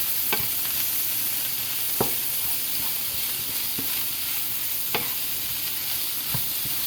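Chicken and vegetables stir-fried with teriyaki sauce on a flame thrower grill: a constant close sizzle with a handful of sharp utensil clacks against the pan, no voices.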